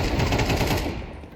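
Dense automatic gunfire from a Counter-Strike 2 match on the Mirage map, a steady loud burst of rapid shots filling most of the moment before tapering off, with one last sharp shot near the end.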